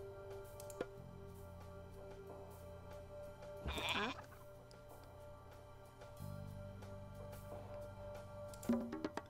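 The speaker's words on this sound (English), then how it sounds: "Why do I keep hearing goats?" A few bleating goat calls from the video game Age of Mythology rise over a steady low hum and droning game music, one loud bleat near the middle and another near the end.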